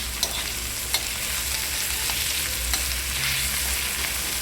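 Onion fries in a pan with a continuous soft sizzle, while occasional spoon taps and stirring clicks sound close by throughout.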